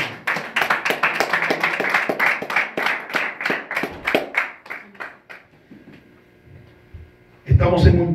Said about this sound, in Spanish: Dele aplausos al Señor.